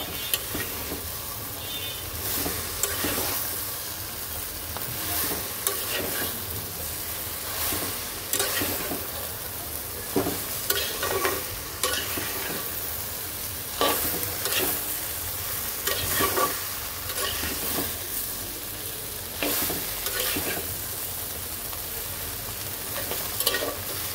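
Shing fish fry with bottle gourd leaves in a pan, a continuous close sizzle broken by repeated scraping stirs of a spoon throughout.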